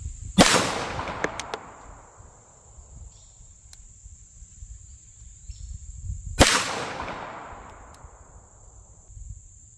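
Two loud, sharp gunshots from a .380 ACP pistol fired outdoors at concrete blocks, roughly six seconds apart, each followed by a long fading echo, with a steady high ringing tone behind them.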